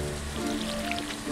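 Steady rain patters throughout in the farming game Stardew Valley, a soft continuous hiss of drops with faint music tones layered beneath.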